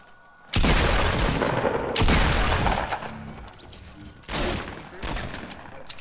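Repeated bursts of gunfire in the video game Fortnite, loud volleys of shots with sharp onsets and echoing tails, separated by short lulls.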